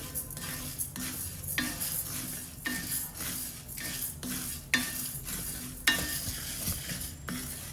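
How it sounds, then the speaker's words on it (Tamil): A spoon stirs idli powder ingredients being dry roasted in a pan over a slow flame, with regular scraping strokes against the metal and a soft crackle underneath, quiet and close. "இதை ஸ்லோ ஃப்ளேமில் வச்சு நல்லா அழகாக பொன்னிறமாக வறுத்து எடுக்கணும்."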